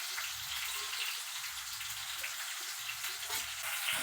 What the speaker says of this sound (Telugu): సిమ్లో పెట్టుకొని ఫ్రై చేసుకోండి,